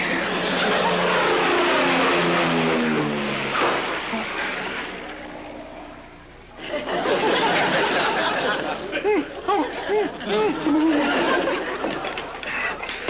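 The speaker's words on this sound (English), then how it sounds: "The next plane that comes over here, shoot it down!" An airplane roars overhead for several seconds, loud and broad, in a 1950s sitcom scene before the noise fades and people chatter and laugh.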